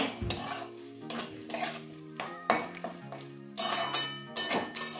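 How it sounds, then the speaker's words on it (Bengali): A spatula scrapes and stirs crushed garlic in a pan in rhythmic bursts of about one per second, metal rasping over a soft sizzle, with no voice. "এই রসুন দেওয়ার পরে আবার কিছুক্ষণ একটু নাড়িয়ে নেব, কাঁচা গন্ধটা যাওয়া পর্যন্ত"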